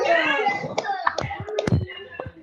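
Participants in an online teacher-training session clap a three-beat pattern, producing several crisp, scattered hand claps of varying loudness mixed in with ongoing speech.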